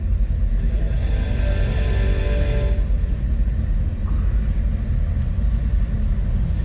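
The engine of a 1972 Chevrolet K10 4x4 regular-cab truck with automatic transmission runs at a steady, low idle rumble close by, with a faint higher whine rising and fading over the first few seconds.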